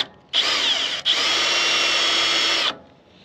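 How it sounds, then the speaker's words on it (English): A power drill fitted with a center bit bores a pilot hole, a loud close high whine that starts, dips briefly at about one second, then runs steadily for about two seconds before stopping. "let's go ahead and drill this out and see if we're even close"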